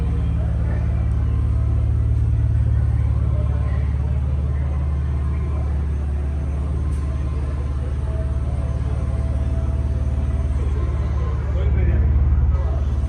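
A Dodge Charger police package with new exhaust work rumbles steadily at close range, a loud continuous low drone with a slight swell near the end.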